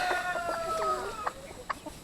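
Several free-range chickens on a farm cluck and squawk nearby in short, irregular bursts, with a rooster-like call among them over a steady background hum.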